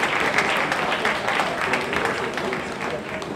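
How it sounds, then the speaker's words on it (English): An audience at a contest grand final applauds warmly, a steady crackle of many hands clapping together that holds at an even level before easing slightly. "please help me to give a round of applause to Mr. Reef Chua"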